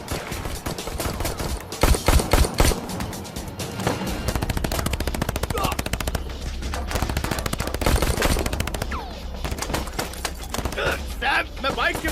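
Gunfire erupts in a crime-thriller action scene, with rapid bursts of shots and repeated single cracks over a steady low rumble, loud and close, while voices shout and talk throughout.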